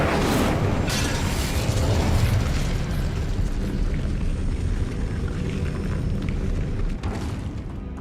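Depulso and Incendio spells cast in the video game Hogwarts Legacy, a continuous loud wash of booming bursts and whooshing blasts with clanking mechanical clatter, fading only slightly toward the end.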